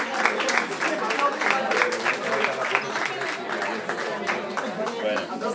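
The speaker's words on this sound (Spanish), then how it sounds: "Venga, un aplauso." Audience applause at an Erasmus ceremony presenting Europass mobility documents: dense, steady clapping from many hands, fairly close, continuing without a break.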